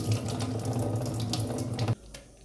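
Water runs steadily from a tap or is poured over butter into a strainer while making homemade ghee, a continuous close splashing stream that stops abruptly near the end.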